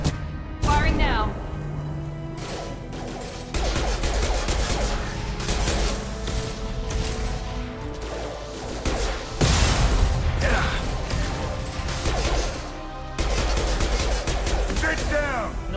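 Gunfire and combat bursts in the video game Mass Effect 2, loud, busy volleys of shots and impacts recurring through the stretch, mixed with game music and voices talking over the action.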